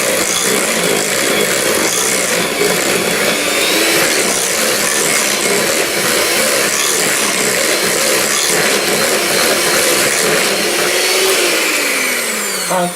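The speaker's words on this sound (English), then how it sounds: "And whisk it through." A whisk beats lime cheesecake filling in a bowl, a steady, loud, continuous whirring that holds for the whole stretch without pause and with no talking over it.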